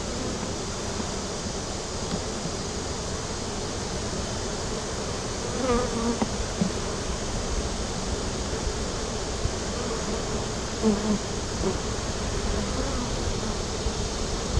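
Honeybees buzz steadily from an open hive during an inspection, a dense, continuous close drone of many insects, with no talking.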